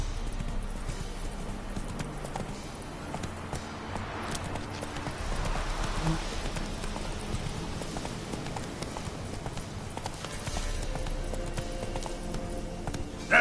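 Roach the horse trots in a video game, hooves clip-clopping in a continuous, moderately loud rhythm over a steady ambient background, with no talking.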